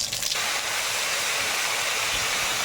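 Dried red chillies and panch phoron five-spice hitting hot oil in a Sundarbans kitchen, giving a loud, steady sizzling hiss that holds evenly from start to finish.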